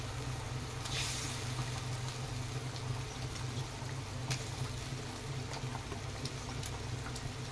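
Broth for a desi magur fish rosa boils quietly in a pot, a soft continuous bubbling with a few small pops and splashes.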